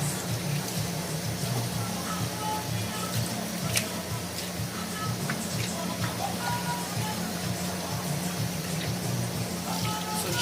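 Rice for jollof is washed in water, a steady close sloshing and running-water wash that holds even throughout, with a low hum underneath.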